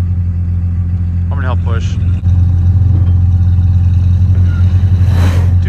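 The engine of a 1968 Imperial roars loud and steady as it attempts a burnout on dirt, a constant low drone with people talking over it.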